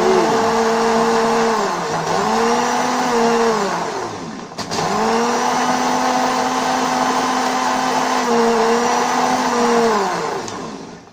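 A blender mixing a homemade vitamin C preparation with powdered garlic, a loud motor whine that rises and dips in pitch as the load shifts, stopping briefly midway before starting again, with no voices.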